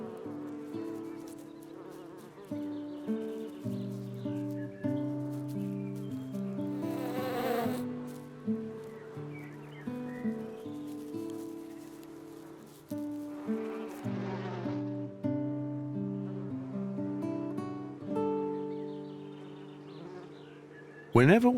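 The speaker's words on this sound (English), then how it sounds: "their nectar is more appealing to insects like flies and bees" Insects buzz and drone around, their wingbeat pitch shifting as they pass close and drift away, continuous and fairly near.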